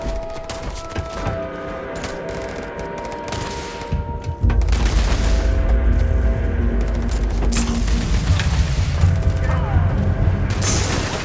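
Heavy gunfire in Starfield, a burst of loud shots and booms that thickens into sustained firing, with a voice shouting in the mix.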